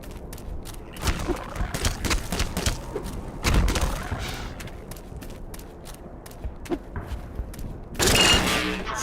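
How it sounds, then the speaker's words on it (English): Gunfire echoes through a lower canal area in the video game Black Mesa: Definitive Edition. Scattered sharp shots and short bursts stand out from a low ambient background, with a heavier volley near the end and no talk. "Okay, I'm hearing the gunfire again."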